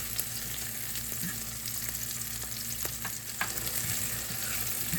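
Onions frying in a pan, a constant dense sizzle at moderate level with occasional light ticks and pops, heard alone without speech.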